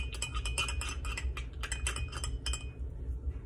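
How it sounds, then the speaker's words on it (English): A metal spoon stirring honey into apple cider vinegar tea in a glass, rapid repeated clinks against the glass wall that slow and stop near the end, close and clear with no talk. "just stir it up"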